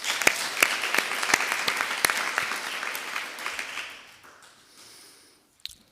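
Applause breaks out in a municipal council chamber as Jean-Pierre Pasquier is elected by acclamation: dense nearby clapping with crisp individual claps that fades away over several seconds into near silence, then one last isolated clap.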